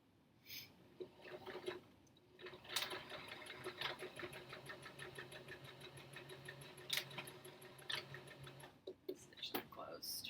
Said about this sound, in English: you can hand sew it closed, or you can just use the machine